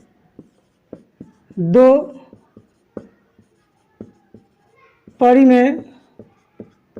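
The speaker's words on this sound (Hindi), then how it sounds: "चलिए लिखते हैं" A pen writing on paper gives soft, close ticks and short scratchy strokes at an uneven rhythm, broken up by two spoken phrases.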